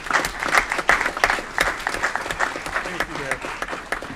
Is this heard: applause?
yes